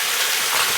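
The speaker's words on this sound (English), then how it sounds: "we're gonna slowly cook this down. Fry it down." Cabbage fries in a pot with a steady, close hiss of sizzling, heard alone in a short burst.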